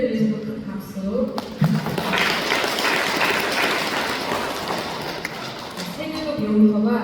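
A congregation at a Won Buddhist temple celebration applauds in a sustained burst of clapping that builds, holds for several seconds and fades, with an officiant speaking briefly before and after.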